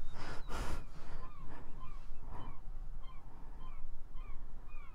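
Seagulls in the Fishing Planet fishing game at the Michigan Lighthouse Peg map give repeated honking, squawking cries over a steady ambient bed, with a louder burst near the start and scattered calls throughout.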